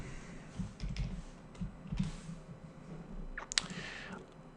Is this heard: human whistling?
no